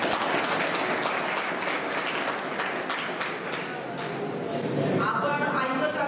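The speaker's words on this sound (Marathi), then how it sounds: "आईसाठी टाळ्या वाजवूया." Students in a polytechnic seminar hall break into sustained applause, a dense steady wash of clapping from a large group that thins slightly near the end.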